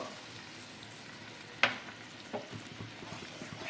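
A spice paste of coriander leaves and green chili sautés in a pan for a fish curry, making a low, quiet sizzle with one sharp scrape of the spatula and a couple of softer stirring knocks.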